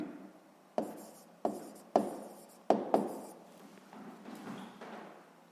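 Handwriting on paper during a 6th-grade maths exercise, with a series of sharp taps and scratchy strokes at irregular intervals, close and fairly quiet, followed by softer continuous scribbling.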